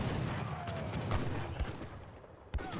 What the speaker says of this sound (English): another big volley from the big mortar